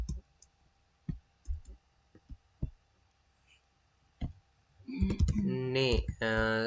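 Sparse keystrokes on a computer keyboard while entering a MySQL table command, a few isolated clicks with pauses between, close and quiet, followed by a person speaking.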